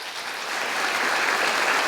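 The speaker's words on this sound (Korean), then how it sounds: "다시 한번 큰 박수로 축하해 주시기 바랍니다." An audience at a monthly agricultural cooperative ceremony breaks into applause for award winners, a dense, steady clapping from many hands that swells slightly and stays strong throughout.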